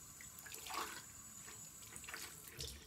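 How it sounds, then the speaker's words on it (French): Tap water running for rinsing during a morning skincare routine, a soft steady stream with light splashes and a couple of louder swells, close by with no talking. "Donc, je vais pouvoir rincer."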